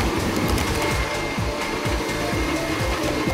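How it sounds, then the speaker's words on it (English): A stand mixer with a paddle attachment whips butter and sugar for lemon drizzle cakes, giving a steady, loud motor whir with a rhythmic churning thump throughout. "While I'm whipping the butter and sugar with my paddle attachment"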